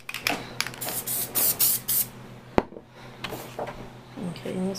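Spray adhesive hissing from an aerosol can in repeated short bursts during a craft project, with a brief sharp knock midway and some quiet talking near the end.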